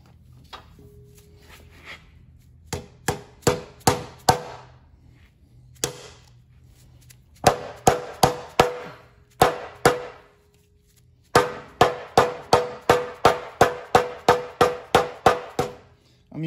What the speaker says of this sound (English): I'm using a dead blow hammer.